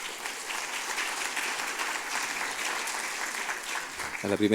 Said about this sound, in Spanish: Le damos un fuerte aplauso a la primera